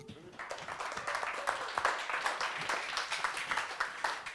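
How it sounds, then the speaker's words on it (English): An audience at a livestreamed comedy show claps, a fairly loud, dense patter of hands with individual claps standing out and a few voices mixed in. "Everybody give this man a clap."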